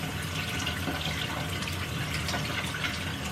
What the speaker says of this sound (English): I just turn on about warmish water, and I start to get the water flow through the tube